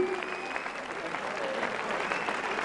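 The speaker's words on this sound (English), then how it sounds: "No arguments and real appreciation from the crowd." A large audience at the 2000 World Amateur Ballroom Standard Championships applauds the first-place couple, sustained dense clapping filling the hall throughout.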